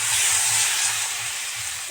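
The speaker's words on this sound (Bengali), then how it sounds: "এবার জল দিয়ে দেবো" A sudden loud hiss and sputter as water hits a hot pan of fried curry spices, easing off over a couple of seconds.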